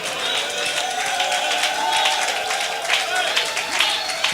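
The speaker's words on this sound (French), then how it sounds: "Applaudissons pour le Seigneur" A church congregation claps steadily in praise of the Lord, a dense, continuous patter of many hands in a reverberant hall, with voices mixed in beneath the clapping.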